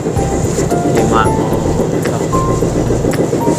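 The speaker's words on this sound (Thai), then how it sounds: "ขึ้นรถไฟต่อเนาะ" A train runs along the rails with a loud continuous rumble and faint rhythmic clatter, while a person briefly speaks over it.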